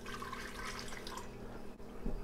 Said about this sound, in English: I start by putting about 1/2 of the water in the blender